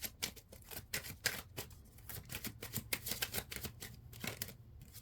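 A deck of tarot cards is shuffled close by, with quick irregular bursts of riffling and slapping card edges in a busy rhythm, faint overall and with no talk.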